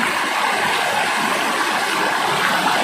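A river with a strong current rushes steadily and loudly, a dense, continuous watery roar heard close by with no talk over it.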